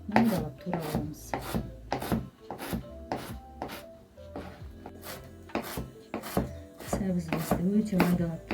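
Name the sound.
chopping carrots finely with a knife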